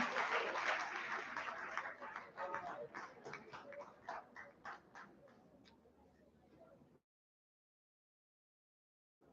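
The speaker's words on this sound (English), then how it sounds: "Please, a round of applause for him" Audience applause at a youth empowerment summit, a dense burst of many hands clapping that starts loud and thins out over several seconds before stopping, then silence.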